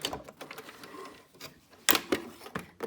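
A sewing machine runs a straight stitch in short bursts of mechanical whirring and clicking, close up, with a sharper clunk partway through.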